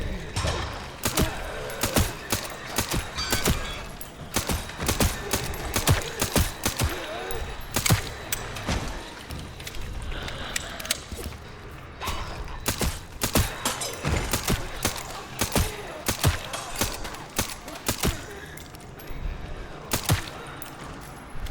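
Repeated pistol shots in the video game Resident Evil Requiem, sharp loud cracks fired in irregular volleys across a busy, dense game soundscape with mechanical clatter, a voice speaking at times underneath.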